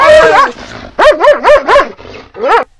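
A pit bull barks in a quick series of loud, close, strained yelps and howl-like barks, with a short pause before a final bark.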